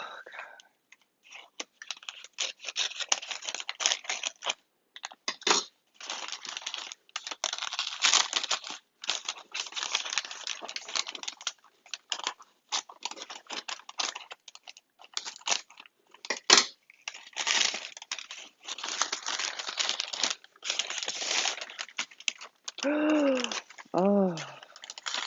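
Scissors snipping and crinkling through plastic and cardboard packaging while unboxing an Alocasia Dragon Tooth plant, a long run of irregular close cuts and rustles, with brief vocal sounds near the end.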